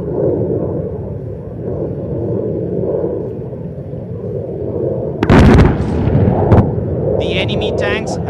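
At the Indian Air Force Vayu Shakti 2019 firepower demonstration at Pokhran, a low distant rumble gives way to one sudden, loud explosion and its rolling aftermath, with an announcer speaking over it.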